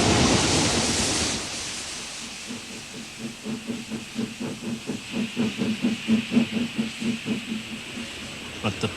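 Steam locomotive on the Somerset and Dorset railway, a loud burst of hissing steam that gives way to a rhythmic, steadily quickening chuffing as the engine pulls away, heard at moderate distance.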